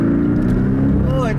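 A 2018 Porsche 718 Cayman GTS engine revs and accelerates steadily in Sport Plus mode with the Sport exhaust on, a throaty exhaust drone, loud and close, with a rising tone near the end.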